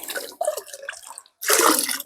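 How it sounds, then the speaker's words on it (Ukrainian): Clear water poured out of a backyard pool in bursts, a splashing, dripping gush that stops briefly and then returns louder and fuller, close by with no talking. "Трошки так виливати, трошки поливати."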